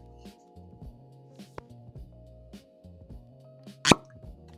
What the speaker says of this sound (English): That was a chewy cork pop.